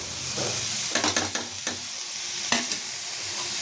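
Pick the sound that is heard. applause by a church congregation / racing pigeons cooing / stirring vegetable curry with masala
stirring vegetable curry with masala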